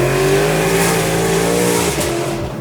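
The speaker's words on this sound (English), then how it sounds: "I'm gonna give it a little rev." A 1200-horsepower Hennessey Venom Shelby GT500 revs hard in third gear, its engine roaring loud and close for a couple of seconds before the pitch drops and a brief tire chirp cuts in near the end.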